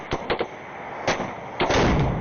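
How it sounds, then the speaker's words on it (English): A 12 gauge hunting shotgun fires several times in about two seconds, loud sharp blasts with short ringing decays, irregularly spaced and heard with no talking. "What did you shoot now? That thing slugs? 12 gauge bird shot, I guess, or maybe buckshot."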